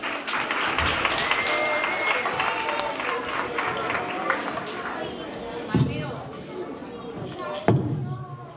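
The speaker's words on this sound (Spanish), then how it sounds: "Un aplauso para ellos." Audience applauding third-grade pupils at a school Christmas festival: dense, steady clapping throughout, with a couple of louder thumps near the end and a murmur of crowd voices underneath.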